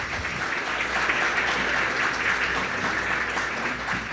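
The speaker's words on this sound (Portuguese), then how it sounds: "Aplaudam a Deus por esse milagre." A church congregation applauds together in steady, sustained clapping that fills the room, moderately loud and even for the whole stretch with no talking.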